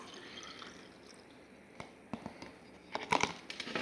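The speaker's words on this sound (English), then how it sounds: "I am returning this water into this beaker." Water poured from a container back into a glass beaker in a classroom demonstration, a few soft drips and trickles building into a brief splashing pour near the end, close and quiet, with no speech.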